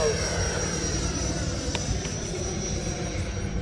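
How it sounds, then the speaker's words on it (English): A Horizon Hobby RC jet airplane makes a slow flyby, its turbine giving a steady, close, loud roar with a high whine held evenly throughout. "Nice slow flyby."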